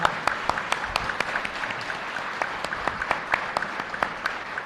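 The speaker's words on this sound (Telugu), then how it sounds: "చప్పట్లు కొడితే ఉత్సవం." An audience claps at a spiritual meditation talk, a modest scattering of distinct claps that keeps up an uneven rhythm at moderate distance.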